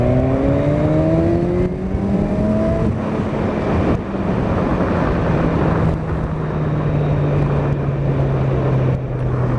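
Kawasaki Z1000SX motorcycle, 2016, riding in third gear around 3,500 RPM at about 34 mph, a loud steady engine drone with wind rush, the pitch sliding gently downward, heard continuously from the rider's position.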